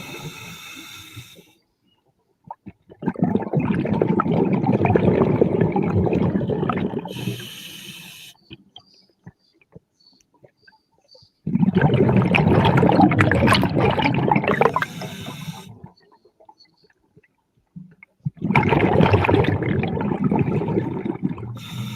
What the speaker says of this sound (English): That noise of that water gives me the creeps.